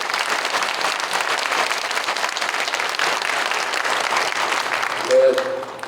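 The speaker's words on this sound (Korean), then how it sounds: "우리 사모님께는 큰 박수 한번 쳐주십시오" A church congregation applauds the pastor's wife at a thanksgiving service for a senior pastor's installation, sustained dense clapping throughout, fairly loud and steady, with a brief voice near the end.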